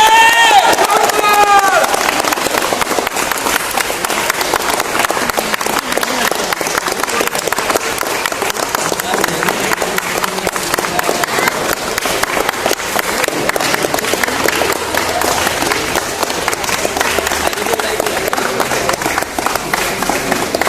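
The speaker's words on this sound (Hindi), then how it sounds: "ताली रुकना नहीं चाहिए।" Sustained applause and crowd noise fill a Vestige car achiever recognition event for Jamil Ahmed, dense and steady throughout with a brief voice near the start.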